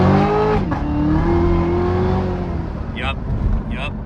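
A Chevrolet Corvette C7 Z06 engine pulls at full throttle, a loud, close, rising roar that holds steady for several seconds before easing off, with a couple of brief sharp chirps near the end.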